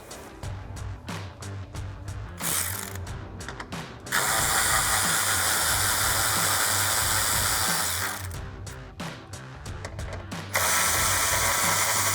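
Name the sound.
ratchet with 10mm socket removing grille bolts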